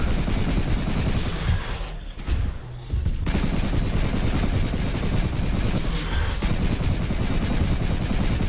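Sustained rapid gunfire in the video game Luna Abyss, a dense, loud, continuous barrage with a brief lull partway through, then steady firing to the end.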